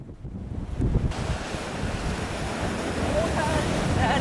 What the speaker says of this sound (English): the waves were splashing up pretty